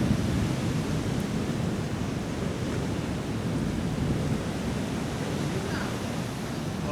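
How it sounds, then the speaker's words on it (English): Huge ocean waves surging across flooded Malama Flats in Hawaii during wet, windy weather, a continuous heavy roar of surf with wind buffeting the microphone, dense and unbroken throughout. "And the waves are huge."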